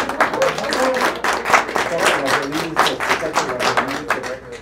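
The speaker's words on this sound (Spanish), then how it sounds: "Aplausos." A small audience at an arts talk applauds a speaker being introduced, a close, lively burst of many individual hand claps that keeps a dense, uneven rhythm and carries on throughout.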